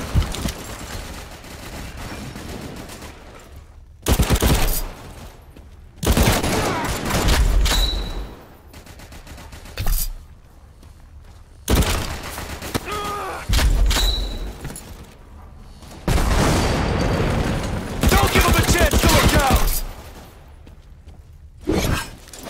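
Suppressive gunfire in the World War Heroes video game, coming as about seven loud, sustained bursts of automatic fire with shattering crashes, separated by brief quieter gaps.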